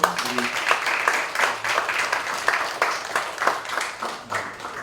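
An audience at a theology study seminar claps continuously at moderate volume, with a voice briefly audible beneath the applause.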